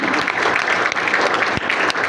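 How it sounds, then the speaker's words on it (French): A crowd at a political gathering applauds and cheers, loud dense clapping with a few sharper bursts, sustained and close. "Sous nos acclamations, merci."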